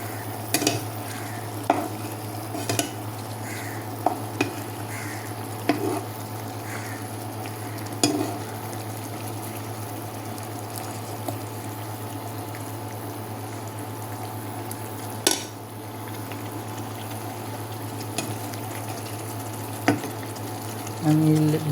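Boal fish curry simmers and fries in a pan with a steady low bubbling sizzle, punctuated by occasional clicks and scrapes as the fish is stirred and turned, no speech.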